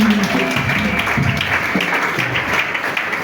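A church congregation applauds as one dense, steady wash of clapping with voices mixed in, holding at an even level throughout.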